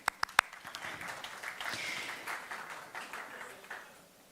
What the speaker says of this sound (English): Big applause for you